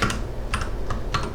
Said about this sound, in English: We can literally type this program in